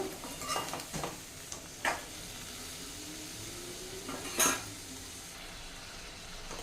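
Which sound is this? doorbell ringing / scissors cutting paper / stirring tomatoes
stirring tomatoes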